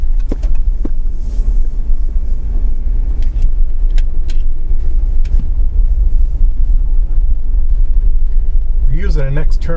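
An RV driving through Anthony Chabot campground and making a U-turn, a loud continuous engine rumble and road noise close to the microphone, with someone talking briefly over it.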